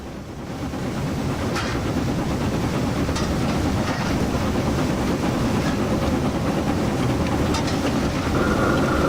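An LMS Black 5 steam locomotive runs on a mainline in a train simulator game, a dense continuous chuffing rumble with steady clatter that swells in and then holds loud and constant.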